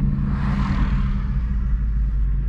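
Low, steady rumble of a manual Ford Mustang GT engine idling and creeping forward at low speed, loud and close from inside the car, with no voices.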